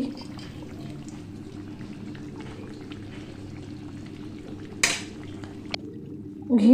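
Raw jackfruit curry with extra water simmers in a covered pot, a steady low bubbling hiss running throughout, broken near the end by a brief clatter of the lid or utensil.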